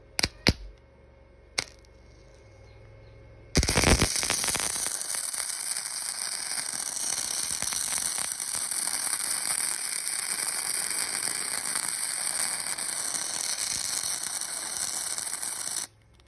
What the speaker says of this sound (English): Don't worry, we're gonna weld from the top.